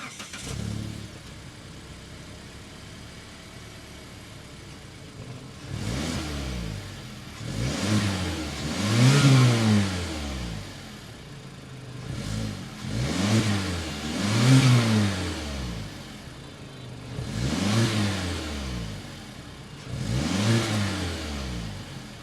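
Turbocharged engine of a 2022 Mazda CX-30 Turbo revving repeatedly from idle, four or five strong rising and falling blips spaced a few seconds apart, close and loud over a steady idle with no talking.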